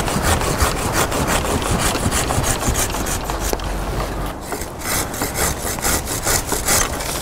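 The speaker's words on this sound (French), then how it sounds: "J'en profite avec ma scie pour supprimer le lierre" A hand saw rasps back and forth through ivy stems on a magnolia, a steady close run of rhythmic strokes that pauses briefly mid-way, then resumes with quicker, brighter strokes.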